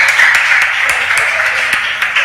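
Audience clapping at a regional school quiz contest, a steady patter of many hands with a few sharper claps standing out, fairly close and continuous.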